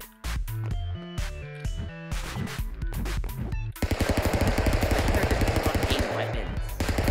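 Rapid video-game gunfire from Stick Fight: The Game, loud and close: scattered shots at first, then a dense, steady automatic burst over the last few seconds, with game music or effects mixed in and no talking.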